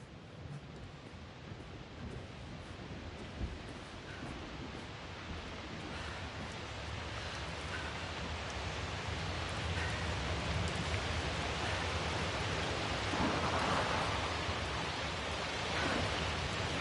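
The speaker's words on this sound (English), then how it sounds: "The storm's getting worse." Storm in The Invincible: a steady roar of wind and rain that slowly swells louder, with no distinct thunder crack standing out.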